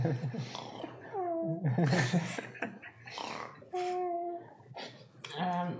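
A voice playfully imitates a purr, with rolling, breathy vocal sounds and squeaky tones, mixed with short bits of speech and laughter.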